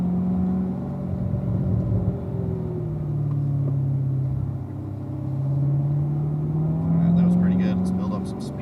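A car accelerating around an oval track, its engine a steady droning rumble that rises and falls in pitch as it speeds up, with a voice giving driving instructions over it.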